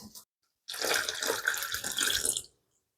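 Warm water, two cups, pours from a tap into a bowl of cornmeal for gordita masa, a steady splashing rush lasting about two seconds after a brief first trickle.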